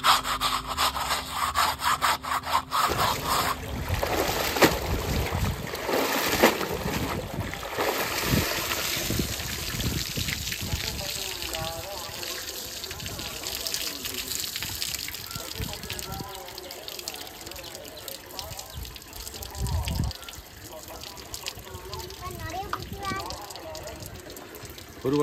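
A motorcycle riding jacket is scrubbed and washed in water, with steady rough brushing and rubbing strokes and running water throughout. Some talk is mixed in.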